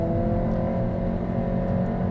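A Honda Civic Si engine hums steadily at mid revs through a gear shift, heard from inside the cabin as a continuous drone with no break, with no voices over it.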